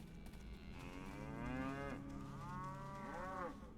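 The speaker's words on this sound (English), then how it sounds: "Wonder if we can talk to these cows." Cows mooing in Neverwinter Nights, heard as two long, drawn-out bovine lows with rising and falling pitch, close and prominent over a steady ambient backdrop.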